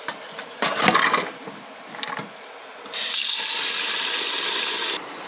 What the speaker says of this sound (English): We will wash the rice because lots of dust in there.